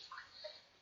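Aged apple wine is poured into a glass in a brief, quiet trickle and splash, lasting under a second with no talk.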